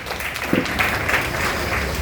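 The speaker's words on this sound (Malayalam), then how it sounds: "നല്ലൊരു കൈയടി ലീഡർ വേണ്ടി കൊടുക്കാം" Audience applause for a grade leader at a marketing program, a steady dense wash of clapping lasting the whole two seconds, fairly loud and close.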